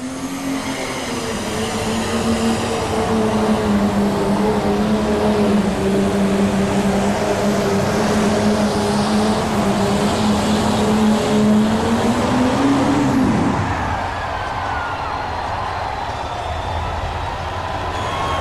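International tractor nicknamed Shotgun Red roaring down the track at a 1993 farm machinery show tractor pull, a loud sustained engine drone with a steady pitch that climbs near the end, then abruptly cuts off.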